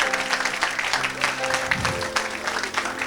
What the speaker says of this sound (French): Somebody clap your hand for the Lord.